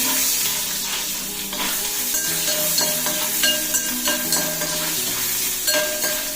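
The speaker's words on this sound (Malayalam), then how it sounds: "കുറച്ച് തേങ്ങാക്കൊത്ത് ഇട്ട് കൊടുക്കാം കേട്ടോ." Coconut pieces and mustard seeds frying in hot oil for pork fry, a steady close sizzle with stirring scrapes and light pan clinks throughout, no talking.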